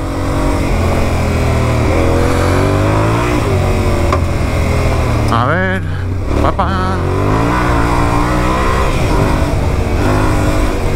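A Yamaha Ténéré 700 World Raid motorcycle is revved and accelerated hard on a ride. The engine note is loud and close, climbing through the gears, with one brief dip in revs midway. A short spoken phrase breaks in over it.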